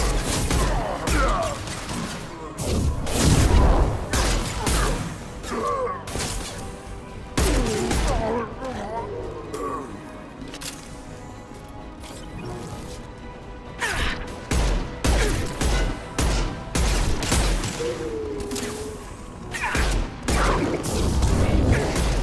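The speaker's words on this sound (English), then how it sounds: "Firing an impact shot!" Impact-shot gunfire and other weapon fire in the video game Mass Effect Legendary Edition during a fight with Krogan: repeated loud bursts and sharp cracks across the whole stretch, with brief lulls and game effects in between.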